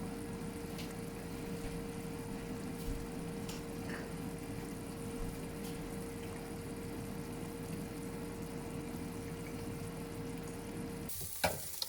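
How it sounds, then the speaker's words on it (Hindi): Chopped capsicum and onion fry in a little oil in a second pan, giving a steady close sizzle over a low background hum, with a brief clatter at the very end and no talking. "अभी मैं सब्जियों को फ्राई कर रही हूँ, जो मैंने पहले से काट के रखी हुई थी, शिमला मिर्च और प्याज"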